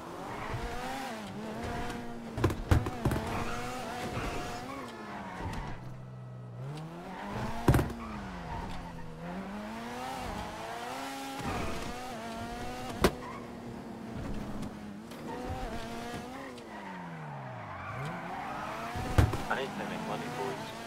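Audi quattro with poor brakes driving in a GTA roleplay video game, engine pitch sweeping up and down through shifts, with tire squeals and sharp knocks scattered throughout while a person talks over it.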